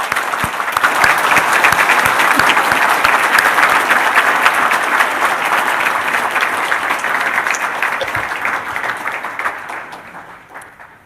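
A church congregation gives a pastor a warm farewell with sustained, dense applause that fills the room evenly before tapering off near the end.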